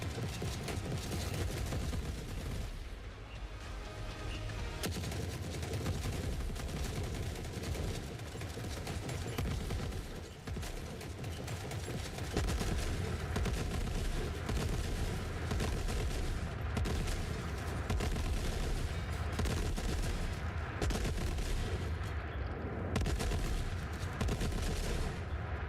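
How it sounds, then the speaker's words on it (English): An unsilenced RPD machine gun fires throughout a battle in the video game Forever Winter, with dense, continuous heavy automatic gunfire and booming impacts that layer into a loud, unbroken wall of combat noise. "The unsilenced RPD for Gunhead sounds freaking dope. It's got some very meaty sound to it."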